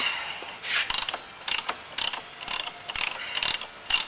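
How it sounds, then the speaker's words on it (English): A big 1/2 inch ratchet with a 1 1/4 inch socket is worked on the sprocket nut of a Suzuki motorcycle, giving loud, close bursts of rapid pawl clicking in a steady rhythm of strokes roughly every half second, with no voice. "Got a nice big 1/2 inch ratchet,"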